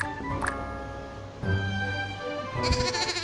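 Sheep bleating in the Luna M game, several short wavering cries stacked over cheerful game music, with a sharper bleat near the start and a busier burst toward the end; no one speaks.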